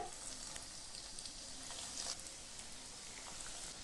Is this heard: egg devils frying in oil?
yes